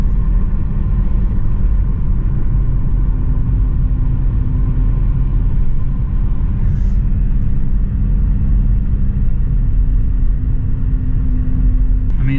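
A 2009 Pontiac G5 drives along with a steady, loud low engine and road rumble heard from inside the cabin, unbroken for the whole stretch.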